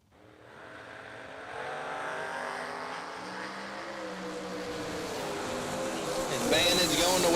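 Drag racing cars, including a wheel-standing Nova, launch from the starting line and build into a loud, rising engine roar that grows steadily over several seconds, with an announcer's voice running over it.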